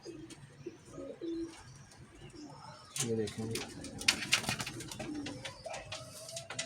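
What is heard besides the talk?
pigeons cooing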